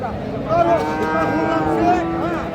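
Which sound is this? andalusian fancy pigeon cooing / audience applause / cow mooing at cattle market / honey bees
cow mooing at cattle market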